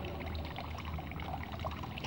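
Water runs steadily from an opened tap in a home plumbing demonstration, a faint, continuous rushing pour with no break and no voices.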